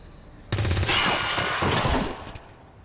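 Soldiers in XCOM 2 open fire in a loud, dense burst of gunshots lasting about a second and a half, with rapid overlapping shots that ring out briefly before fading.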